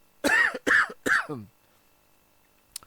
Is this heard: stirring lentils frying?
no